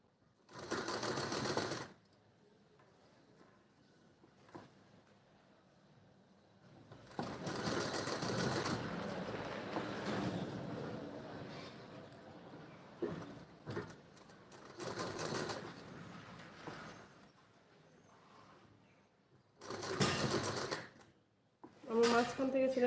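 Short bursts of sewing machine stitching on a neck design alternate with quieter stretches, a close rapid whir starting and stopping several times while a person talks in between.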